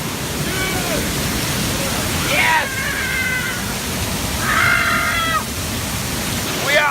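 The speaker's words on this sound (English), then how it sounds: "We are under the waterfall." A waterfall rushes as a constant, loud wash of broadband noise, heard from close underneath. Excited voices and a shout rise over it.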